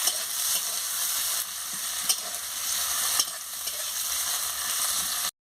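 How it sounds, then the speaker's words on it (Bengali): Sliced onion sizzles steadily in hot oil in a pan, a loud continuous crackling hiss with a few sharper pops and stirring scrapes, ending abruptly. "পেঁয়াজটা ভাজা হয়ে গেছে"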